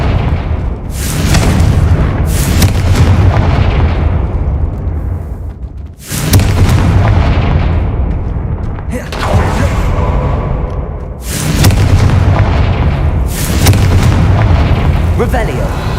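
Deep booming Confringo spell explosions from Hogwarts Legacy burst out repeatedly, about five heavy blasts with rumbling tails, loud and close, with voices in the game heard between them.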